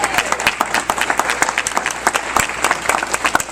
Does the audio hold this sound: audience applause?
yes